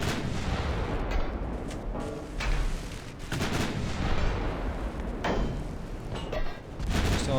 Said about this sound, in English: I got so close that the 4-inch guns are now firing.